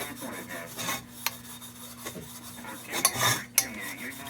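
Light rubbing and scraping on the brass fount of a 1947 Coleman Major No. 236 lantern, soft irregular strokes with a few sharp metallic clicks and scuffs, close and fairly quiet.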